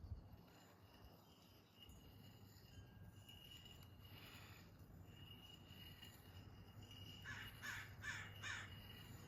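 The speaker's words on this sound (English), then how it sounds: "I love crows." Several faint crow caws sound in the distance over a steady outdoor hum with insects, with a short run of calls near the end.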